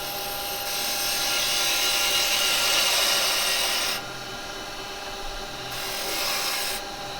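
Woodturning tool cutting a bead on a spinning wood lathe, a steady close rasping hiss that swells, cuts off for a moment, then returns as the tool rolls in, with no talking.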